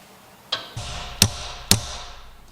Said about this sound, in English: We're gonna pound it on as far as we can.